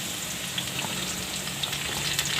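Capsicum fries together with potatoes in a pan, making a continuous soft sizzling hiss with faint crackles and occasional stirring taps.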